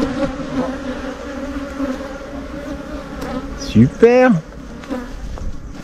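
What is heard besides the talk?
honeybees buzzing around an open hive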